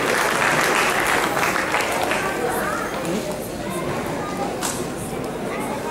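Audience at a Ratha Yatra festival in Hoppers Crossing applauding and cheering prize-winning children, a dense wash of clapping loudest at first and continuing with crowd chatter.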